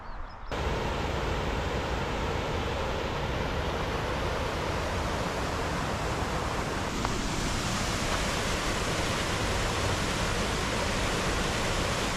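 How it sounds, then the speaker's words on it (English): A waterfall in Benglas Woods on the Glenfalloch Estate in the Scottish Highlands pours with a loud, steady, broadband rush that stays unbroken throughout. "Quite a few waterfalls on this bit of section so far."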